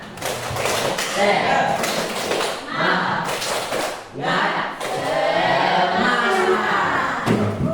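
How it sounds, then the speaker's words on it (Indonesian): A school class performs a rhythmic spirit clap and chant together, voices and claps in bursts with short pauses between them. "Mari kita tepuk semangat."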